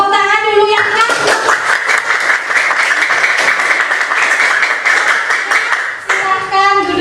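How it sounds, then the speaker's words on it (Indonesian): Schoolchildren in a classroom clapping together for a group's pantun board, a dense burst of rapid hand claps lasting several seconds, with a teacher's voice speaking just before and after. "Tepuk tangan dulu ya Kak."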